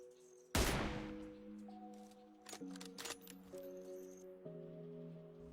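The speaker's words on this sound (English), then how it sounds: "Here I am shooting from high ground to low ground around 475 meters." Gunfire in the mobile battle-royale game PUBG Mobile, one loud sharp shot followed by several quieter shots over looping game music and interface tones.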